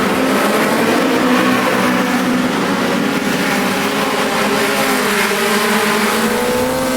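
Formula Junior race car in the AMS2 racing game, its engine droning steadily and loud throughout, with harmonic tones shifting as it downshifts and holds revs through a cambered corner, other cars nearby.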